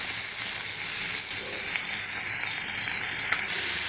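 Masala with tomato, cashews and salt sizzles steadily in a hot pan for egg curry, a continuous close frying hiss with a few faint stirring clinks.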